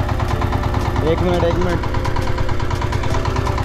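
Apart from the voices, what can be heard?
tractor engine running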